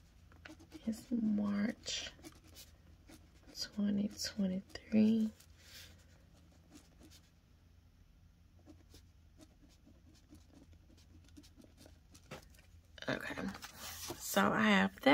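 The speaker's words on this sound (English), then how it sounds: "So I'm going to write this here too so I'll know." Pen scratching on a sealed envelope in short bursts, quiet and close, interleaved with soft spoken talk and whispering.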